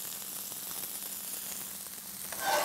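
Wild mushrooms with garlic and rosemary sizzle steadily in a hot pan as they are stirred, a close, continuous crackling hiss that swells slightly near the end.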